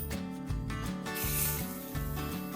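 Sliced bitter gourd frying in a pan on a gas stove, stirred with a spoon, giving a continuous scraping, rubbing sound with rhythmic strokes over a steady sizzle, close and fairly loud, no talking.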